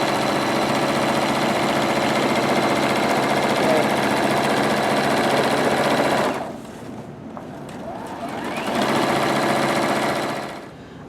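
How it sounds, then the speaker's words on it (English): A sewing machine stitches a quarter-inch seam on a Halloween pillowcase: a steady, close mechanical whir runs for several seconds, briefly drops out, then resumes before stopping. "Now we're going to put it together just like this and sew a 1/4 inch seam allowance."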